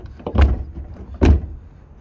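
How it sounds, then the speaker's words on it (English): Two heavy thuds from a Mk3 Golf GTI car door being refitted during a restoration, about a second apart, each a close, dull metallic knock with no talking. "Put the door back on."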